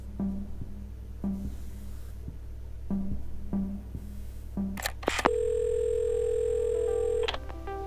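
A telephone handset in the puzzle game Assemble with Care, with soft tapping and clicks, then a steady continuous dial tone that holds for about two seconds before cutting off.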